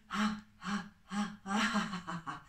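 A person breathes in deeply during a guided stress-relief breathing exercise, a series of breathy inhalations and exhalations in short bursts, close and clear, with no talk.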